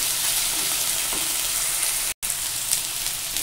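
Onion and ginger frying in oil with sour yogurt, a dense continuous hissing sizzle heard close up, broken by a brief dropout near the middle.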